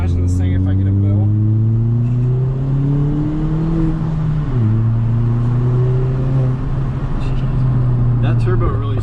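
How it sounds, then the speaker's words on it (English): Turbocharged engine of a 2019 Hyundai Veloster R-Spec, revving and accelerating loudly from inside the car, with a steady rising drone that shifts pitch around the gear change, voices talking over it. "That turbo really sounds good."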